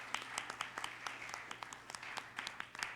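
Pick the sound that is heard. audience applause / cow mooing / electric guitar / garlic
audience applause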